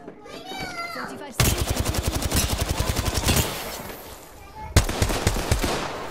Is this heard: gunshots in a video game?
yes